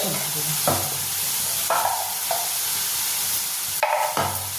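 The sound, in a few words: stirring ground chili and turmeric in frying pan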